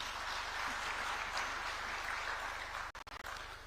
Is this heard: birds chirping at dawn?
no